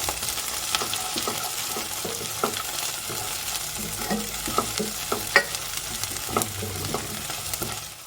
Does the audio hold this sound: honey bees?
no